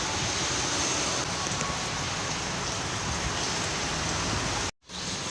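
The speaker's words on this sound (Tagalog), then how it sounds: "bumuhos na yung malakas na ulan" Heavy rain pours in a dense, continuous roar close by, heard from shelter at a gas station, broken by one brief dropout near the end.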